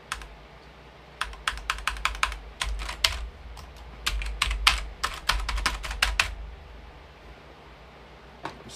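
Fingers type on a computer keyboard plugged into a mini-ITX PC being built in a Fractal Design Torrent Nano case. Close, crisp keystroke clicks come in quick bursts with short pauses, ending with a brief final flurry.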